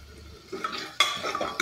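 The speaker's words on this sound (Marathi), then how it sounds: "हलवून घेऊयात." A spoon stirs masoor masala with asafoetida and turmeric in a pan, giving a few close metallic scrapes and clinks over a faint sizzle, with no talk.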